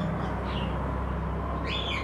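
A pair of Paposh pigeons, one male and one white female, gives soft continuous cooing and faint chirps, steady and close throughout without talk.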